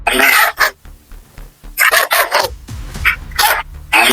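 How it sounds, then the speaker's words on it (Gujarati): A dog barks several times in loud, close bursts, with a rooster-like crowing and clucking mixed in between. "અલા કૂતરો કેમ ભાલ્યા"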